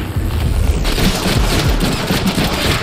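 Loud, rapid bursts of gunfire in the Deadpool video game, overlapping shots forming a near-continuous barrage close by.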